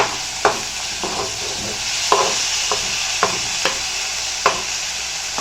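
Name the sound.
ivy gourd (kovakkai) sautéing in a pan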